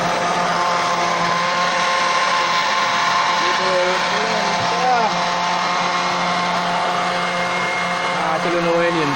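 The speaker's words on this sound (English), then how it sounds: "Old Pepsi blender my people, you see it?" An old Pepsi-branded blender runs steadily and loudly throughout, a dense whirring motor drone with shifting pitch as contents churn, while a person talks over it.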